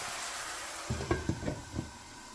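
Ground turkey cooking in a covered pan, a soft steady sizzle with a handful of quick knocks and scrapes of the pan partway through, fairly faint and without any voices.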